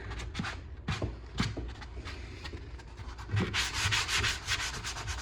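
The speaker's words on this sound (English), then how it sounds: "I'm trying to go with the grain of the wood." A sponge sander rubs along the grain of wood on kitchen shelving, producing quiet, continuous back-and-forth scratchy strokes up close.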